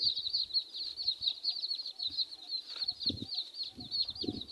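A mother hen with chicks clucks softly and repeatedly nearby at a chicken coop, with a constant high chirping of birds or insects running through the whole scene.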